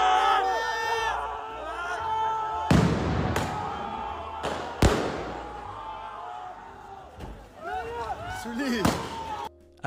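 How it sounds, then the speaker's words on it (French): Loud firework-laden Molotov cocktail blasts at a New Year's Eve street disturbance, several sharp bangs and thuds over a few seconds amid crowd noise and shouting voices. "ils attachent un feu d'artifice, donc un énorme pétard au cocktail Molotov"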